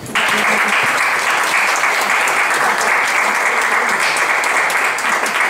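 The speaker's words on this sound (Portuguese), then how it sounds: "Palmas para ela." Loud, dense audience applause fills a hall at a literary association event, breaking out abruptly and holding steady throughout, honoring a woman doctor who received the Tiradentes medal at the Legislative Assembly.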